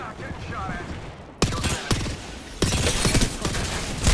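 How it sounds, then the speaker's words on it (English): Gunfire erupts in a video game shootout, starting with a muffled, scattered stretch before sudden loud bursts of rapid close shots crackle densely through the rest, with a voice talking partway through. "Shots fired, and they're hitting me."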